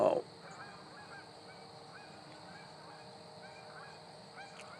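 Distant geese honking at sunrise, faint repeated calls over a steady outdoor hiss, with a brief louder bump at the start.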